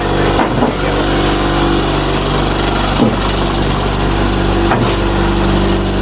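A concrete hollow block vibrating machine runs steadily throughout, a loud continuous mechanical drone with a few brief sharper knocks, close by.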